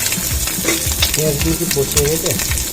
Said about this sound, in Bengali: মাছগুলো ভাজা হয়ে গেছে আমি উল্টে দিচ্ছি